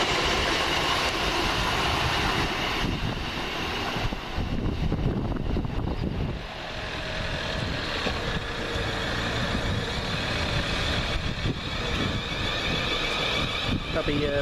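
A Class 444 unit, 444023, works the South West Trains service from Portsmouth Harbour to London Waterloo, rumbling close by with shifting roar and rattling clatter, someone talking over parts of it.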